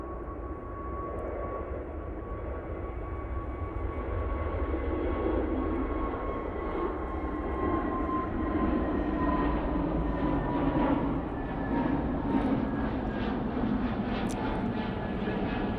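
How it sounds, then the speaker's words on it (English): An EasyJet airliner departs Manchester Airport for Munich, its engines giving a steady, broad roar with a faint whine that holds strong and close throughout, alone without voices. "That's the EasyJet going off to Munich"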